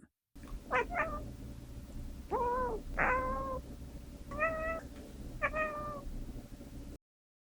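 A cat meows several times, clear rising-and-falling calls spaced a second or so apart, close and alone over a faint hum.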